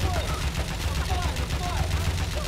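Rapid gunfire rattles in Watch Dogs Legion, dense overlapping bursts of shots over a low droning background, continuous and busy for the whole stretch.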